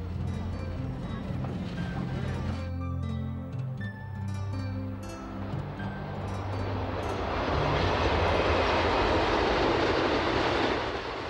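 Passenger train pulling out of the outback railway town of Cook toward Tarcoola, a loud steady diesel rumble with a low engine drone that swells into broad rushing noise as the train moves off.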